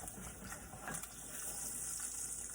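Water poured into a cooking pan in a home kitchen, a continuous splashing gush with a steady hiss, no talking.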